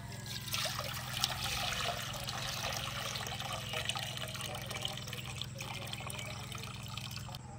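Water pours steadily into a cooking pot set on a stove, a continuous close trickle and splash with a low steady hum underneath and no talking.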